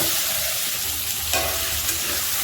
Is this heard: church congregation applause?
no